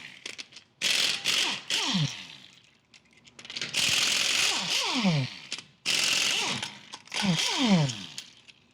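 A ratchet wrench with a 19 mm socket works the lug nuts on a 2018-2023 Subaru wheel, in three bursts of rapid clicking ratchet strokes separated by short pauses, close and clear.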